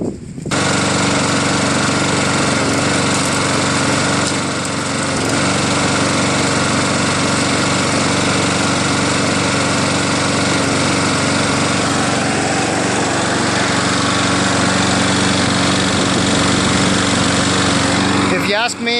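A Craftsman self-propelled lawn mower with a 7 hp Briggs engine runs steadily at high speed after valve adjustment, a loud, buzzing drone that holds constant without pause for the whole stretch.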